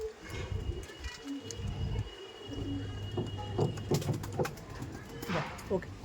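Madrasi pigeons coo in low, steady murmurs nearby, with a person talking over them and light handling noises.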